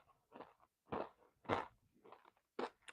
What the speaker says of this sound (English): you let me know if they're chewing as loud because I'm eating these Chex Mix. I'm smashing them now.